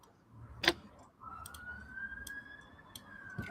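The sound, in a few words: sirens outside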